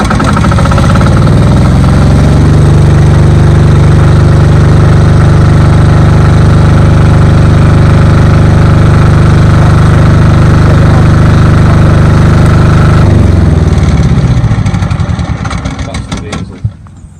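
Diesel generator gen set engine running at a loud, steady low rumble close by, then winding down and sputtering to a stop as it runs out of diesel, with voices faintly underneath.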